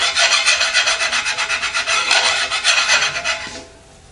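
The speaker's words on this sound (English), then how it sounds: "And we're just burnishing it lightly." A flat file is drawn back and forth across a metal part from a 1953–1962 Corvette steering gearbox being rebuilt, giving a close, rhythmic rasping scrape of even strokes that trails off at the end, with no talking.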